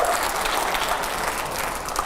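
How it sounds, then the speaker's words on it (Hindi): An audience applauding at a televised debate with politician Imran Pratapgarhi and editors, a steady dense clatter of many hands clapping throughout, moderately loud with a faint crowd murmur. "तालियां जरा जोरदार होनी चाहिए हर सवाल के पहले"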